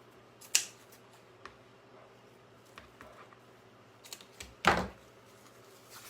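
Snips of scissors trimming the sprigs of a homemade Christmas wreath, two sharp cuts separated by a few seconds with faint quiet handling in between.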